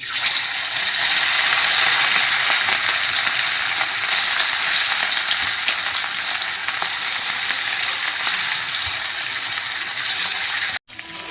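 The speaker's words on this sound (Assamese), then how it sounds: "এতিয়া মাংসখিনি এপিচ এপিচকৈ ফ্ৰাই কৰিম" Pieces of meat fry in hot oil in a home kitchen, giving off a loud, steady, dense sizzle that keeps up without a break and cuts off sharply near the end.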